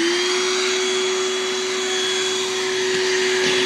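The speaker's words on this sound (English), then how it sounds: "So we're gonna start using the vacuum now" A vacuum cleaner sucks up live bees from a hive, running steadily with a loud, constant motor whine and rushing suction, unbroken for the whole stretch with no talking.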